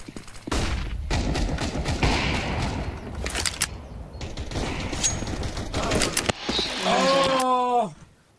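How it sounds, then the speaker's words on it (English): Counter-Strike: Global Offensive match with a flashbang grenade thrown amid dense rapid gunfire, loud sharp bursts and thumps layered close together, ending in a quick descending electronic tone. "Deploying flashbang."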